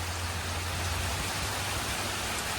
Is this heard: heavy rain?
yes